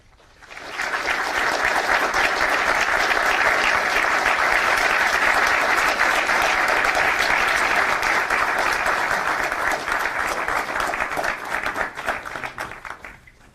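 Sustained audience applause welcoming Senator Rubio to the stage at an International Republican Institute event, a dense steady roomful of clapping that swells quickly, holds loud for about ten seconds, then thins and fades.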